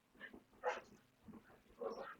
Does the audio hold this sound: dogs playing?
yes